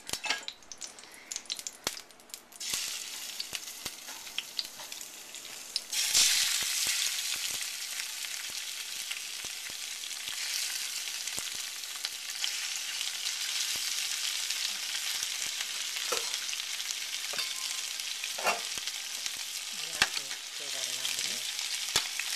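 Rabbit meat sizzles steadily in a hot pan, a continuous crackling hiss with occasional clinks and scrapes of utensils against the pan.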